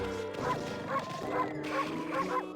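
Repeated dog barks in a steady rhythm, about five woofs over a few seconds, set against a continuous musical background, from the video game Okami HD.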